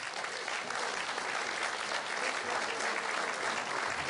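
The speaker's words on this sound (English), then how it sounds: "I love applause." Steady, dense applause from a large audience, loud and continuous throughout with no pauses.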